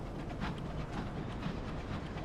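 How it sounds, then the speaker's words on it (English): A steam train in the airborne steampunk game Sunless Skies rumbles steadily as it reverses and then moves forward, a continuous low chugging drone with faint rhythmic clatter throughout. "Yep, train is reversing. Now we're going forward."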